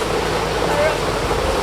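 Steady roar of Karura Forest Waterfall in Kenya, a constant broad rushing wash of falling water heard up close without a break.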